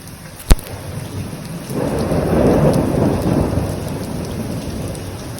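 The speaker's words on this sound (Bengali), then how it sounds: "বাইরে দেখুন কি পরিমাণে বৃষ্টি হচ্ছে" Heavy rain pours steadily outside after a single sharp crack of thunder near the start, the downpour swelling into a loud, dense roar that continues to the end with no one speaking.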